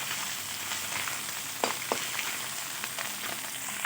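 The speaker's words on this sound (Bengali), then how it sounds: "দেখো, মাছটা খুব ভালোভাবে ভাজা হয়ে গেছে" Fish fries in hot oil in a karahi with a soft, steady sizzle. A few brief knocks and clinks break in as the pieces are handled, and no one speaks.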